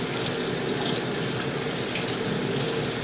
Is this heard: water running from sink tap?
yes